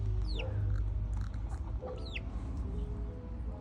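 Pet chickens cluck and squawk close by in a backyard coop, a few rising calls standing out over a constant low rumble of background noise.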